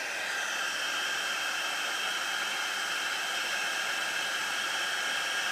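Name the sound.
heat tool melting embossing powder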